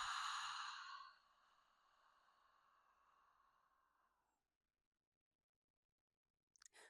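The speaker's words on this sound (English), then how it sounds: "Blow it out your mouth." A single slow exhale blown out through the mouth during a meditative breathing exercise, a loud, breathy rush of air up close that fades over a few seconds into near silence, with a brief faint click right at the end.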